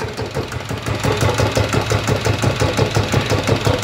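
A Kubota E50 single-cylinder diesel engine idles steadily up close, its rapid even thumping pulses loud and regular throughout.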